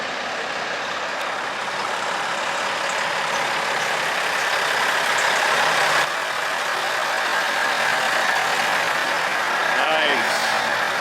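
A 1975 semi truck with a tall upright exhaust stack idles nearby, a steady low rumbling drone that holds evenly throughout with little change, set among other big rigs at an outdoor truck gathering.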